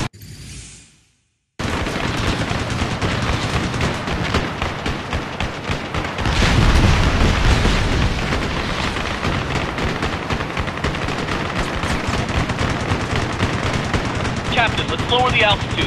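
Dense, continuous gunfire with bursts and booms from aerial combat in Ace Combat: Assault Horizon, a jet combat game on Xbox 360, loud and sustained after a brief quiet start.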